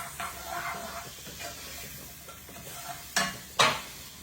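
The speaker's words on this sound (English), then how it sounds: "I'm going to saute this down in all of this shrimp goodness." Vegetables sautéed in shrimp drippings for shrimp and grits give a low, steady sizzle with soft stirring, then two sharp, louder spatula scrapes near the end.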